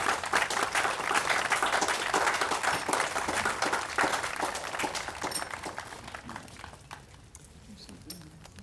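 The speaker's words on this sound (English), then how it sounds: "One more round of applause for our veterans." Sustained applause from an audience honoring veterans at a 2022 Memorial Day observance, dense clapping that holds steady and then gradually thins and fades toward the end.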